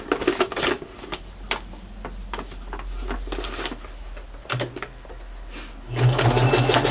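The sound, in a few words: sewing machine zigzag stitching fabric pocket on junk journal page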